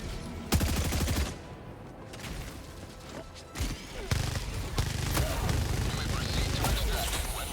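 Rapid minigun and gatling fire in Helldivers 2, dense sustained bursts of rattling shots broken by brief pauses and mechanical clanks, loud and continuous throughout.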